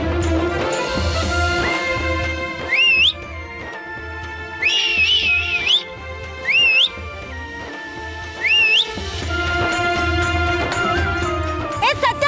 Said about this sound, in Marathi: शिट्टी